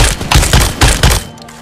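Loud close-range gunshots in PUBG Mobile, four or five heavy bursts of rapid fire in quick succession, then a short fading tail.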